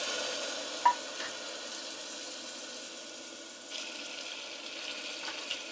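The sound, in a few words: water added to frying masala for chicken kaleji, sizzling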